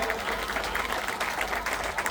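Audience at a live Gujarati garba folk music program breaking into sustained, dense applause, many hands clapping continuously throughout with a faint murmur of crowd voices underneath.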